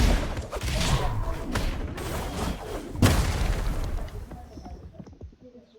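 Punches and knockdown hits in the Roblox fighting game The Strongest Battlegrounds, a run of booming impact bursts with one heavy hit standing out midway, over busy game noise that fades toward the end.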